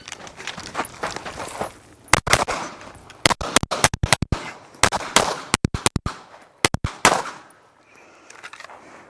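Pistol shots crack during USPSA practice shooting, a fast irregular string of loud close reports in quick pairs and clusters, set against quieter background rustling and clatter, with no speech.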